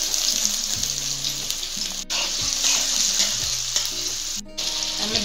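Onion, garlic and ginger fry in hot oil in a pan for anda tadka, giving a steady, close sizzle with repeated scraping stir strokes and two brief breaks in the hiss.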